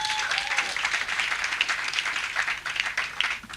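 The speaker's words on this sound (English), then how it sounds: "Another round of applause for the panel." Audience applause for a panel at a blockchain accelerator launch event: a steady wash of many hands clapping throughout, fairly close and even, with a brief faint voice near the start.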